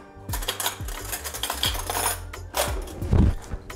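A teaspoon clinks and scrapes against a cup while stirring sugar syrup and matcha powder for a matcha dalgona coffee, producing a quick series of close metallic taps and rattles with no talk.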